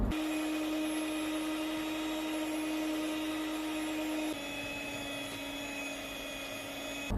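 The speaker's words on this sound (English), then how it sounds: "I'm going to use my hand mixer to mix this" Electric hand mixer whirring steadily up close as it beats apple cake batter, a continuous motor drone with a slight drop in pitch partway through.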